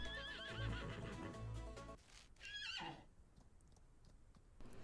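A horse in the western game Outlaws of the Old West lets out a loud whinnying neigh, then a couple of shorter snorting calls with faint hoof clops, fading to quiet.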